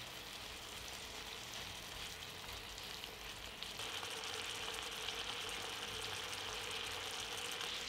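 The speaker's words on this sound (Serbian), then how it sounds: "Dok se naši medaljoni od svinjskog filea prže, prelivat ćemo sa masnoćom." Pork fillet medallions fry in melted butter over lower heat, a faint steady sizzle that grows a little louder partway through.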